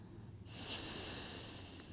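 Steady, breathy exhalation during a slow yoga stretch for restful sleep, a soft airy rush that starts about halfway in and holds evenly, close and fairly quiet, with no talking.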